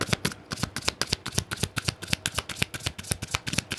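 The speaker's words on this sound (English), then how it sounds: "I'll be shuffling these decks too." Tarot cards shuffled by hand in a steady run of quick riffling bursts, close and crisp, with no talking.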